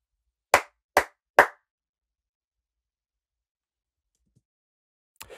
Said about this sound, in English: So I just clapped right here